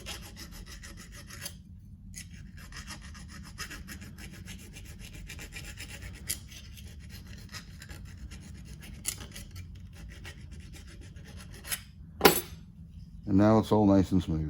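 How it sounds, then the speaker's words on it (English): Steel hand file rasping against a motorized bicycle engine part on a bench with the intake plugged, a steady close scraping texture running through most of the stretch, followed at the end by someone speaking briefly. "I will take a file with my intake plugged"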